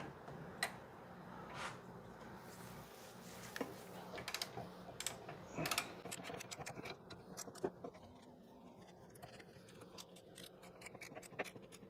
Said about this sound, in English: And then with my torque wrench, which is a little tricky to get into here